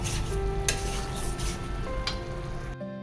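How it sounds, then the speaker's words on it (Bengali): Turmeric, chili and coriander powder sizzling in a pan as a spoon stirs them, with a few clinks of the utensil against the metal and a continuous frying hiss that fades out at the end. "এক চামচ হলুদ এক চামচ মরিচ আর এক চামচ ধনিয়ার গুঁড়া দিয়ে খুব ভালো করে কষিয়ে নিচ্ছি"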